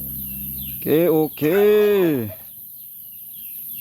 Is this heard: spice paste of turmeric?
no